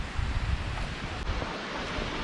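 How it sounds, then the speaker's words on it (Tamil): Waterfall rushing beneath a roadside bridge at Glencoe in the Scottish Highlands, a steady broadband roar with low-end wind buffeting, continuous and fairly close with no voices. "இங்கே தான் தண்ணி சத்தம் கேட்குது, ஃபால்ஸ் மாதிரி இருக்குது"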